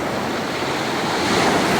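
Ocean surf rolls steadily onto the beach at Mimiland Batu Payung in Singkawang on a morning outing, a continuous broad wash of waves with some wind noise and no voices.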